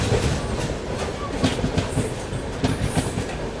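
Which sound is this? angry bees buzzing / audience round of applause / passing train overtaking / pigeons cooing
passing train overtaking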